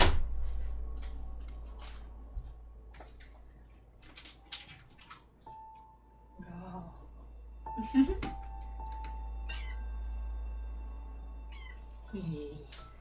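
A house cat meows a few times, short and fairly close, mixed in with intermittent talking, scattered clicks and a faint steady tone in a quiet indoor room.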